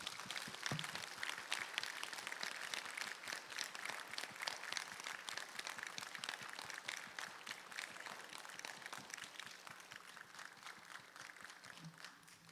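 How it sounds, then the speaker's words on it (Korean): A church congregation claps to welcome a pastor at a worship service, steady faint applause from many hands continuing throughout, heard from a distance. "이 시간 서종호 목사님 나오실 때 박수로 환영하겠습니다."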